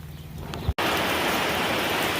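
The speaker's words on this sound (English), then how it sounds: "It's now raining" Heavy rain pours down outside a seed warehouse, a dense, steady hiss that cuts in abruptly after a short dull thump and keeps going at full strength.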